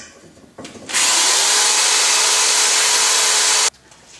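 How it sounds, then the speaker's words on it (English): Flap wheel on a power tool grinding surface rust and plastic off a universal joint part, a loud steady abrasive whir running for about three seconds after a short spin-up, then cutting off abruptly. "This flap wheel isn't real abrasive, so it's pretty much just taking off the surface rust and that plastic."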